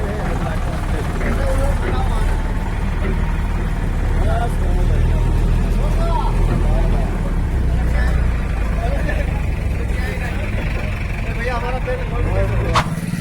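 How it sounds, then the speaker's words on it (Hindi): A tractor drives beside a farm field, its steady low engine rumble continuous and fairly loud throughout, with scattered voices and background activity mixed in. "ट्रैक्टर पहुंच चुका था हमारे यहाँ खेत के बगल में"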